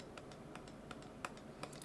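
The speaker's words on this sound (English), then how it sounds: "I'm just going to click a few times like this" Mouse clicks on a computer during digital painting in Photoshop: about eight or nine sharp, light clicks at uneven intervals, close and fairly quiet over a steady low room hiss, with no talking.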